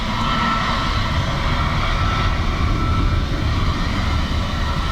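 Airliner taking off at Dublin Airport in gusty crosswinds, a loud steady broadband jet roar with heavy low rumble that holds constant throughout, no voices.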